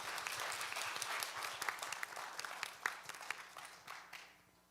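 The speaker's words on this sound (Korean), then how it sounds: "여러분 먼저 박수로 환영해 주시기 바랍니다." Audience applause welcoming panelists at an academic conference, a dense steady clapping from a roomful of people that holds for several seconds and then tapers off near the end.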